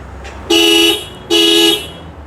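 Toyota Hilux Vigo alarm set off in panic mode from the key remote: two loud, sustained honking blasts about half a second each, separated by a short pause, close by with no talking.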